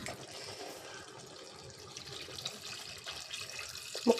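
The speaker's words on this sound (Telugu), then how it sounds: "ముక్కలు ములిగేలా వాటర్ వేసుకోవాలి." Water poured over pieces of korameenu fish in a pot, a steady close splashing rush that runs the whole four seconds at moderate volume with no talk.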